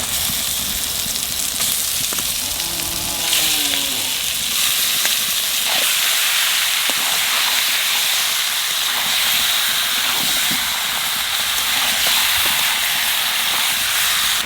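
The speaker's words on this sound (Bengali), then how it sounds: "হলুদ, মশলা কষানো হয়ে গেছে, এইবার মাংস দিয়ে দেবো।" Chicken meat sizzling in a hot pan of turmeric-spiced masala for a Carolina Reaper curry, a loud, steady hissing frying noise sustained throughout, close up and with no talk.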